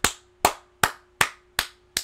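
A single person claps six times in a slow, even rhythm, each clap sharp, close and loud with quiet gaps between.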